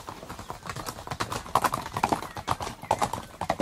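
Horses' hooves clip-clopping in a steady rhythm, close and fairly loud, with occasional whinnies among them in a dramatised period street scene.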